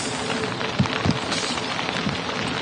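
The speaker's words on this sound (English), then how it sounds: "the rain picked up as well. You might be able to hear it, guys. It's definitely pouring down now." Heavy rain pouring down at an airport makes a dense, even hiss with a few brief louder spatters, heard close and continuous with no talk.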